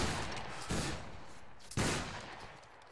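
Musket volley fire from a company of soldiers in the video game Battle Grounds III: two loud, booming crackling bursts about a second apart, each a ragged blend of many shots trailing into rumble.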